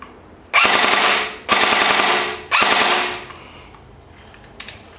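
G&G full metal AK47 airsoft rifle with blowback firing on full automatic, three loud sustained bursts of rapid mechanical clatter separated by short pauses, with a faint click near the end.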